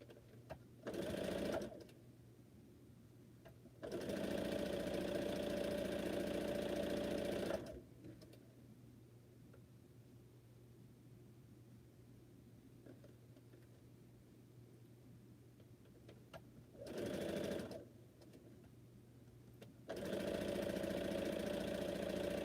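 A sewing machine runs in long, steady whirring bursts while chain piecing quilt blocks, stopping and restarting several times with quiet pauses between runs, close and continuous during each stretch.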